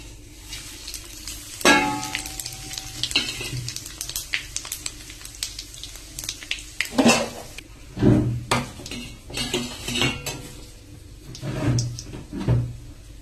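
Whole spices (phoron) hitting hot oil in a home kitchen pan, giving a steady crackling sizzle broken by sharp clatters and knocks of cookware, with no talking.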